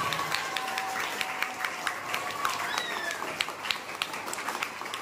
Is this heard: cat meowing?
no